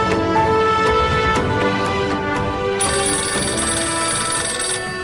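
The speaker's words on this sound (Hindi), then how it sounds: "फोन की आवाज नहीं आ रही है क्या?" A telephone rings continuously and loudly, an electronic ringtone with a steady bright tone that shifts higher partway through; no one speaks over it.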